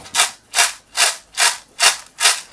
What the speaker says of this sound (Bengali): এভাবে করে আমরা ঝাড়া দিয়ে নিলেই সব খোসাগুলো চলে যাবে